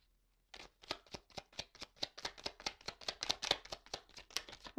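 A deck of tarot cards is shuffled at close range: a quick run of about eighteen crisp, evenly spaced riffling snaps after a short silence, fairly faint and with no talking.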